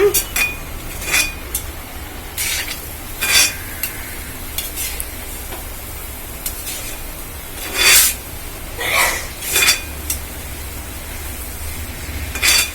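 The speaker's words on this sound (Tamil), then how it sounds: "இப்போ இன்னொரு பெரட்டு பரட்டலாம்ப்பா" Ponnanganni keerai greens are stirred in a pan over a low cooking hiss, with a series of sharp, close spatula scrapes and clinks against the metal coming in irregular bursts.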